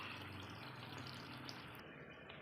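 Chicken curry simmering on medium heat gives a soft, continuous bubbling hiss, faint and close, with no voices.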